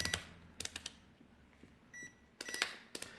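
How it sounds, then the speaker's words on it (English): Short electronic beeps from a UEI UTLDM2 digital multimeter as the selector switch is turned through its ranges, several quick faint bleeps spaced irregularly with soft switch clicks between them. "you do have that annoying beep. So you change the ranges and beep, beep, beep, beep"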